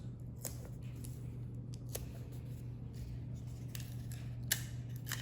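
Scissors snip small pieces of tape at a desk, several quick crisp cuts at irregular intervals over a low steady hum.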